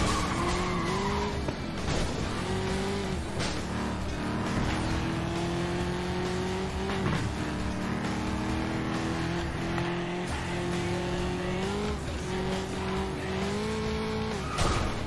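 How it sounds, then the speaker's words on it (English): Race cars in the video game FlatOut 2 roar through a circuit sprint, engines droning and shifting pitch continuously while tires squeal and skid, loud and unbroken throughout. "We are gonna go and progress through this race now."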